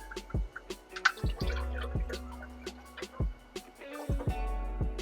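Engine oil draining from the front sump of a BMW E92 M3 into a pan: faint, irregular drips and small splashes close by, with quiet gaps between them.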